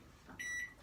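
An 800 watt microwave keypad gives one short, faint electronic beep while two minutes are set on it.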